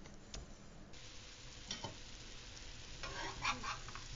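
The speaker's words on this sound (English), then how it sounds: "now we are frying the two burger patties" Two beef burger patties fry in a pan with a steady, quiet sizzle, broken by a few sharp crackles and pops and faint scraping or stirring near the end.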